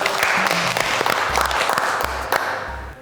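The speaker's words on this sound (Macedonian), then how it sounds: "Златко Таневски, аплаузи за него" A studio audience on a cooking-competition elimination show applauds the host, the clapping full and continuous for about three seconds, with crisp individual claps poking out of the crowd.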